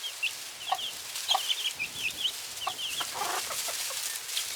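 Backyard homestead chickens clucking softly, a scatter of quiet, irregular clucks and chirps at mid distance over a hissy outdoor background.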